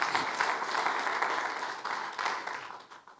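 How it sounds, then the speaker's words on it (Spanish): Applause from a church congregation clapping for the Lord during an afternoon service, a steady dense wash of many hands lasting about three seconds before tapering off slightly at the end. "Denle palmas al Señor en esta tarde."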